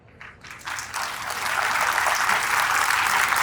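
Audience clapping at a National Voters Day gathering, beginning as scattered claps and swelling within a second into dense, sustained applause from a large crowd that stays loud to the end.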